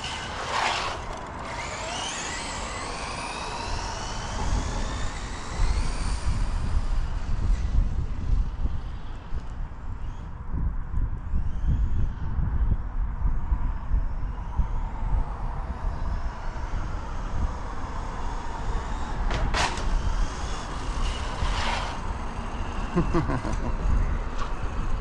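A Team Associated SR10M ready-to-run stock car RC racer makes a speed run on a dirt oval, its electric motor whining loudly past and away amid steady background rumble, with a brief crash or scrape near the end.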